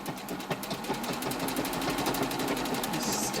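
A sewing machine stitches apron fabric with a rapid, steady mechanical chatter, close and even throughout.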